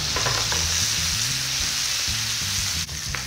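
Pork ribs for a spicy, sticky Korean-style dish fry in a pan, giving a steady, close sizzle with a little crackle throughout. Faint background music plays underneath, and no one speaks.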